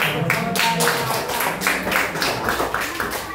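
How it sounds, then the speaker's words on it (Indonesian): A classroom of students claps together in a short burst of brisk, rhythmic applause, close and fairly loud, with a voice briefly audible. "Oke, beri tepuk tangannya"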